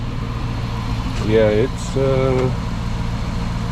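A 2006 Dodge Magnum fitted with Magnaflow mufflers idles with a low, steady burble close by, while someone talks briefly over it.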